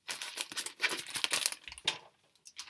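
A plastic bag crinkles and rustles in irregular bursts as it is handled nearby, fairly quiet, with short pauses between the crackling movements.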